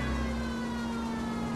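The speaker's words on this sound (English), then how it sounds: "It's the reason I have a siren on" Police car siren in the LA Noire video game, a steady wailing tone holding level throughout, loud and close with no talking over it.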